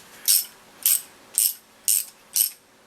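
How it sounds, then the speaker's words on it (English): Ratchet wrench clicking through five evenly spaced bursts of rapid pawl clicks, heard close and alone, while rebuilding the forks of a 1992 FJ motorcycle. "Ratchet set the right way."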